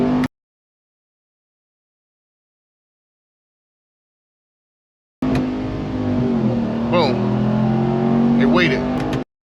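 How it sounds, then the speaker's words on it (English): A 2021 Ram TRX engine drones and revs inside the cabin, its pitch rising and stepping as the transmission shifts gears, after a long silent gap. "I had to let off the gas in order for it to swap gears."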